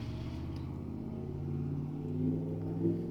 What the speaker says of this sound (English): I wish people wouldn't drive loud cars up my street.